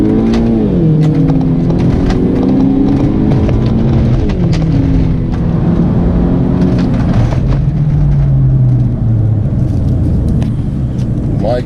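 BMW 1 Series E88 120i M Sport engine revving hard and accelerating with traction control off, rising through the gears in several pulls with gear-change dips, loud and close throughout, a voice talking over part of it.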